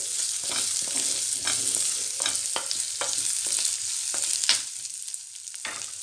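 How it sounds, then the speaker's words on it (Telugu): Okra fries in a pan with a constant close sizzle and repeated scrapes and taps as it is stirred. The hiss fades slightly near the end, and nobody speaks. "ఒక 2 minutes వేగనియండి."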